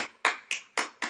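Hands clap five times in quick, slightly uneven succession, sharp and close in a quiet room.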